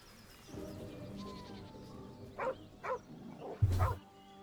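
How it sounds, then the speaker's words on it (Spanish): A dog in Baldur's Gate III gives a few short yelping barks amid game ambience and music, moderately loud and spaced about half a second apart. "Oh, un perrito."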